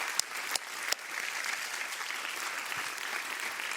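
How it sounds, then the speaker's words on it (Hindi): Audience applause for a departing contestant, Dayashani, on a Hindi kids' singing reality show stage, steady, moderately loud clapping with a few sharp claps early on that carries on evenly for several seconds. "जोरदार तालियां हो जाएं दयाशनी के लिए।"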